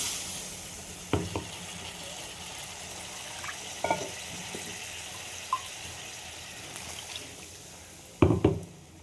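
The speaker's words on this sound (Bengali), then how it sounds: "এই মশলা ধোয়া জলটা দিয়ে দেবো" Spice-washing water goes into a pan of sizzling spices, tomato, green chilli and ginger, with a soft frying hiss throughout. Sharp splashing bursts and clatters come early, in the middle and loudest near the end.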